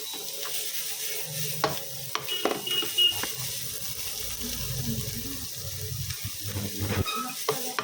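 Sauce being stirred into already-fried broccoli and mushrooms in a pan: intermittent scraping strokes over a soft sizzle, with a faint voice now and then in the background.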